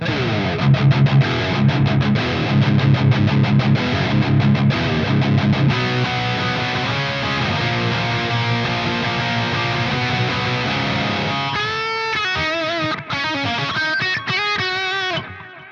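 Heavily processed electric guitar through a Sonicake Matribox 2 Pro pitch-shifter preset, dense and loud, shifting into warbling, wobbly detuned notes toward the end.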